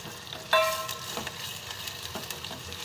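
Chopped onions sizzle steadily in a hot pan as they brown to a reddish colour, a close crackling hiss with a brief louder burst near the start as they are stirred.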